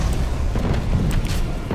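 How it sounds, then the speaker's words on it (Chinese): Cannon artillery bombardment in a tank war simulator video game, heard as a dense run of deep booming blasts and rumbling impacts that continue without pause, loud and close, with no talking. "我方加农炮在轰击"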